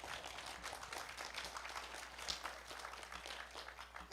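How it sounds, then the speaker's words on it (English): Audience applause at a ribbon cutting ceremony for a college of osteopathic medicine, a steady, dense wash of clapping that holds evenly for about four seconds at a fairly faint, distant level. "A big round of applause for you."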